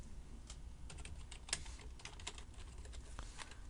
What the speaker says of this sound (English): And then I'm going to type in happy learning